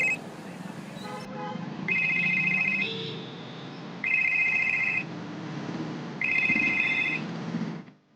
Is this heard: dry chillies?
no